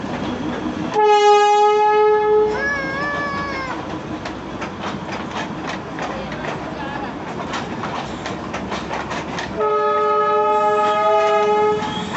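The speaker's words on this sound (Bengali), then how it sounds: "দার্জিলিংয়ের টয় ট্রেন।" A Darjeeling toy train sounds its horn in long, loud, multi-toned blasts at the start and again near the end. In between, steady rumbling and clattering of the train on its rails continues.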